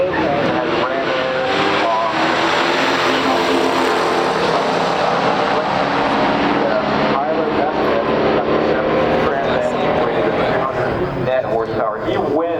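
A 1972 Pontiac Firebird Trans Am and a 1970 AMC AMX race down a drag strip, their engines roaring loud and continuous throughout, with the pitch and intensity shifting as both cars accelerate.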